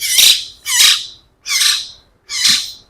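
A Chittagong hill myna calls loudly and close by, four separate harsh squawking whistles spaced evenly with short silent gaps between them.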